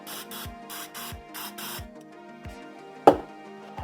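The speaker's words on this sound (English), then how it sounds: "I'm just going to spray each one" An aerosol sprayer hisses in several short bursts over silicone cupcake liners set in a basket, steady and close, with light knocks and clatter between the sprays.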